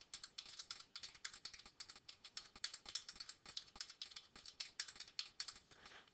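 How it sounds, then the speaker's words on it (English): Computer keyboard keys clatter in a steady, fast run of typing for several seconds, quiet and close, with no voices. "So let me type that in"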